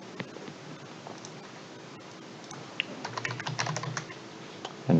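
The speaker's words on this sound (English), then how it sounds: "and we just type none" Fingers type on a computer keyboard, a quick run of light clicking keystrokes close to the microphone over a faint background hum, picking up in pace toward the end and closing with a louder knock.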